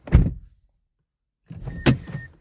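Door locks of a 2007–2011 Mazda CX-7 actuate by themselves: a quick mechanical clunk, a second of silence, then another double thunk with a sharp click, close inside the vehicle.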